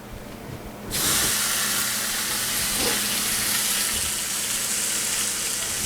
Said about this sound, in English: it's time to throw them burgers down, that burger down